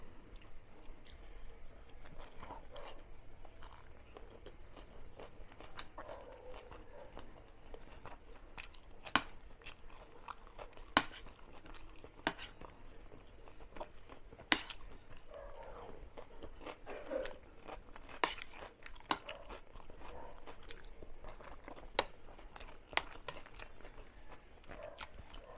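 Crunchy raw onion being chewed together with pork liver steak, heard as steady close-up crunching and biting with sharp irregular crackles through the clip and no talking.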